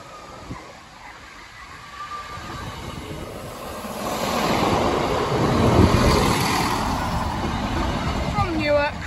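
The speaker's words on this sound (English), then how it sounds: "we're doubling for the 10:18 Northern train service for Leeds" A Northern passenger train rumbles past at Lincoln High Street level crossing, its noise swelling to a steady roar and then easing, with a voice speaking briefly near the end.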